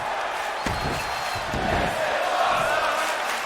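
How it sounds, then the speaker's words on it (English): Wrestling crowd in an arena in Austin, Texas, roaring and cheering after a top-rope move, a dense rolling noise with a couple of dull thuds near the start. "The crowd here in Austin, Texas, loving the action."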